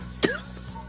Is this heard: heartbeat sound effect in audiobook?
no